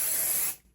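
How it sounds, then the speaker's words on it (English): Spray basting adhesive hisses onto fabric for a Christmas sewing project in one short, close, loud burst that cuts off abruptly after half a second. "Then I'm going to take my spray again and just give it another"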